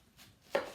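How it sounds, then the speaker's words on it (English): A single close knife chop through an onion, halving a small onion for split pea soup, a sharp crisp cut after quiet kitchen room tone, with no talk. "Onion, I cut also just in half."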